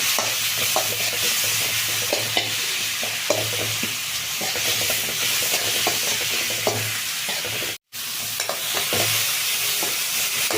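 Green chillies fry in a pan of oil for a pea gravy, a close, continuous sizzle broken by the scrape and clink of a spoon stirring, with one brief silent gap.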